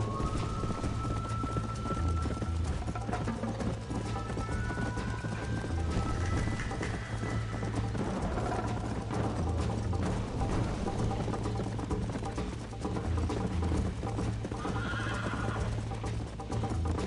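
A horse in the Western video game Red Dead Redemption gallops with steady rhythmic hoofbeats and lets out several loud whinnies over a constant thrum of wind and motion.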